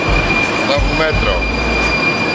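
A Prague metro train runs close and loud with a steady rumble and squealing wheels.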